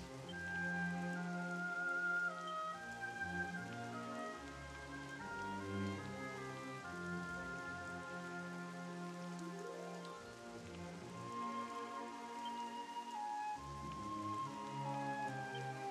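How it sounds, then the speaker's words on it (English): Steady rain falls in the fantasy role-playing game Dragon Quest XI, a constant patter spread under a full layer of game music, with no talking. "I always love the sound of rain."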